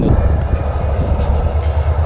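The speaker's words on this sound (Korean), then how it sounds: "저렇게 기차도 간다" A train passes at a scenic spot near Queen Seondeok's tomb in Gyeongju, Korea, giving a steady, loud low rumble of rolling rail cars that fills the whole stretch.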